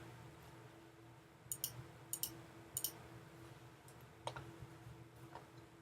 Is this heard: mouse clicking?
yes